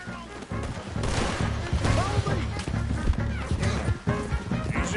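Gunfire in a video game: dense, rapid bursts of shots and impacts crackle loudly and continuously, with voices talking over the action.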